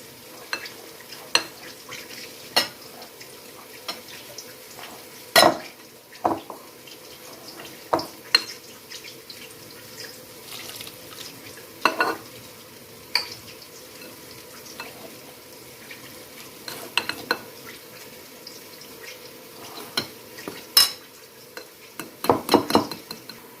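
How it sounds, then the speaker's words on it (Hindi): Wheat flour halwa is stirred in a pan as warm milk is added gradually, giving a soft, steady sizzle under repeated spoon scrapes and knocks against the pan, close and fairly quiet. "और इसमें ये थोड़ा सा नीम गर्म दूध मैं डालती जाऊंगी, एकदम से नहीं डालेंगे, अच्छी तरह मिक्स करूंगी"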